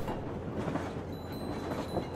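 A train rolls along the rails in Metro Exodus with a low, steady rumble and faint clatter, heard up close with no one talking.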